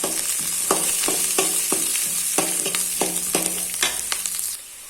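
Chopped onions and garlic sautéing in a pan for an okra dish, a loud, steady sizzle broken by regular clinks and scrapes of a stirring spoon, with no talking.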